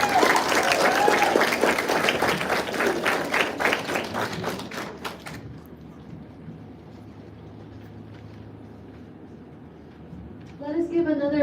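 Audience applause at a Tri-M Music Honor Society ceremony at Okkodo High School, loud dense clapping for about five seconds that fades to quiet room tone, with a voice starting to speak at the end.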